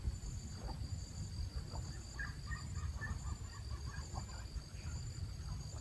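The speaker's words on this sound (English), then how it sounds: "Listen to the bird cry." Several short bird cries, honking and clucking like fowl, ring out over a low steady rumble, with faint high insect-like tones in the background.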